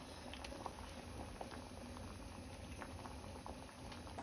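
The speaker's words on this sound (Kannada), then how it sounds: "ಸಾಂಬಾರು ಕುದೀತಾ ಇದೆ." A pot of South Indian vegetable dal sambar boils steadily, with soft, continuous bubbling and popping that stays fairly quiet and close, and no voices.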